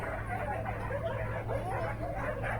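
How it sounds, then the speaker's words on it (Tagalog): Farm dogs bark and yip at unfamiliar visitors, with several overlapping barks and whines at moderate distance against a steady low hum of background noise. "medyo hindi tayo kilala ng mga aso nito"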